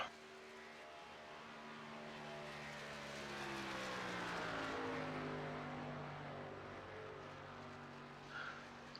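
A K&N stock car runs its qualifying lap at Talladega. The engine drone is distant at first, swells to a peak in the middle as the car comes past, then fades away, with no talk over it.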